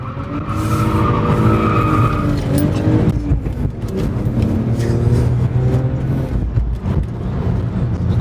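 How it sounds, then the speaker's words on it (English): BMW tires squeal and spin for a long stretch, a loud sustained screech over a roaring engine close by that continues for several seconds without pause. "I don't think I've ever heard the tires squeal like that or spin that long"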